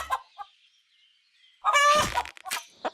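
Chickens clucking and squawking in the video game Winds of Valen, a loud burst of close-up fowl calls after a quiet stretch, then a few shorter clucks.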